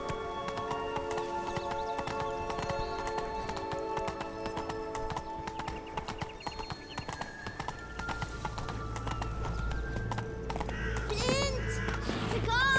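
Roach the horse's hooves clip-clop steadily in The Witcher 3 amid a busy game soundscape, with a brief whinny near the end and no talk.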